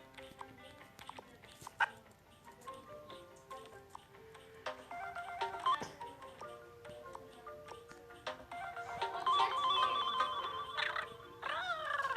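A school bell or ringtone-like electronic chime rings in repeated tonal bursts over a noisy indoor room, with a dog barking and faint voices mixed in, the ringing growing louder toward the end.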